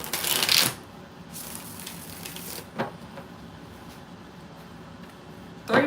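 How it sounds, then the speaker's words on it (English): A deck of cards shuffled for a paid card reading: several close, crisp riffling bursts separated by quiet pauses, with a final flurry at the end. "Three more shuffles."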